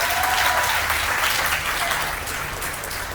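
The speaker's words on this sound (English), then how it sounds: "Give them a round of applause, please, as well." Audience applause at a community health center league event, a steady, dense clapping wash from a crowd that gradually thins toward the end.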